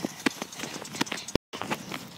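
Horse hooves clip-clop on hard ground in short, irregular knocks at close range, with a brief gap of silence partway through.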